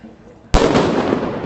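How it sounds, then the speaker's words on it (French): A firecracker thrown by protesters at a police charge on Place de la République in Paris goes off with a single sharp, loud bang followed by a sustained noisy roar of crowd and echo. "il y a des personnes qui lancent des pétards"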